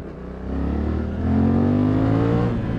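A Suzuki V-Strom 800 RE motorcycle engine pulls steadily up a climb, its note rising in pitch and loudness as the revs build, close and loud with no talking.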